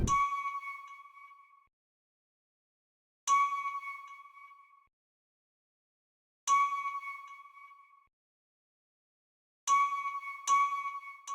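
Bright, bell-like synth key notes ring out one at a time with long decaying tails, spaced by pauses, with two quick strikes near the end.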